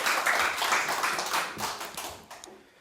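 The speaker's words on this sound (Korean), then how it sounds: "박수 한번 해주시죠." Audience clapping at a Korean construction safety engineer exam success talk, a dense burst of many hands that fades out toward the end.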